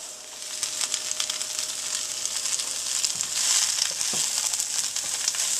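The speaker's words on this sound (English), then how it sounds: "I'm going to add in all of that cabbage." Cabbage tipped into a pan of cooked-down onions for bratwurst and sauerkraut, a steady close sizzle and hiss with crackling and a few rustling, crunching shifts of the vegetables, no talking.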